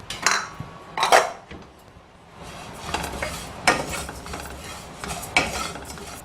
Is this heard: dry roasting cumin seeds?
yes